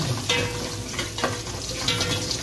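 Ginger and garlic sizzle steadily in a hot pan, close and fairly loud, broken by a few stirring scrapes, with no voices.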